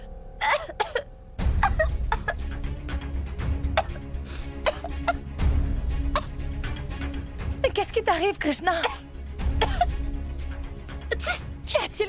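Repeated coughing fits from a person in an indoor drama scene, loud and close, broken into bursts between stretches of dialogue, with someone talking over and around the coughs.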